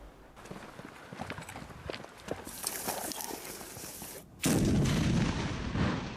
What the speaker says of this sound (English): Indian and Chinese soldiers lobbing grenades and then storming a building, attacking imaginary targets